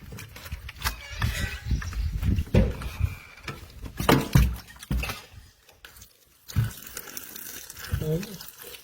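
Tap water runs over freshly harvested mushrooms in a kitchen sink, a close, splashing flow that swells and breaks as the pieces are rinsed, with a voice talking intermittently.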